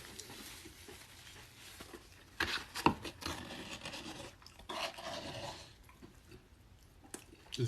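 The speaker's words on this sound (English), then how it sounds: "I'm scraping the bowl." Utensil scraping the inside of a Cava Grains and Greens food bowl, a faint, irregular raspy rubbing with a few sharper scrapes and clinks, close to the microphone and without talk.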